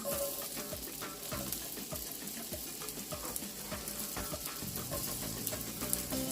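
Onions and peppers fry in a pan with butter, making a soft, even sizzle. Quiet scraping and stirring strokes run under it, heard fairly faint and close, with no talk.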